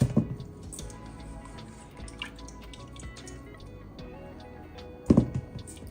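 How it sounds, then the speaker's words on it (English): Buttermilk drips from squeezed homemade butter in soft, irregular little drops and trickles, faint and close, with a couple of louder splashy bursts at the start and near the end. "I'm gonna squeeze my butter just so I can wring out as much of the buttermilk as possible."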